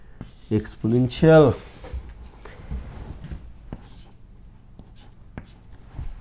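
Chalk or marker writing on a board during a physics lecture, faint scratchy strokes and taps following a short burst of speech.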